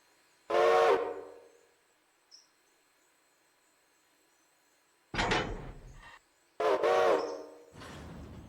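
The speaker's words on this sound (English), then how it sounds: "So I just chose the regular Nathan 5 chime." The Nathan 5-chime locomotive horn in the Railroader train game blows in three loud, close blasts: one short sounding, then a pause of several seconds, then two blasts in quick succession, with silence between them.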